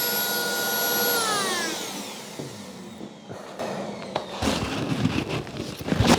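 A Dremel rotary tool with a burr carving a wooden leaf: a loud high whine that drops in pitch as it slows, then rough, crackling grinding bursts against the wood, close up.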